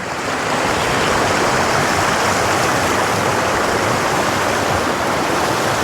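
A small waterfall in an icy winter trout stream rushes continuously, a loud, dense, steady roar of falling water heard up close with no voices.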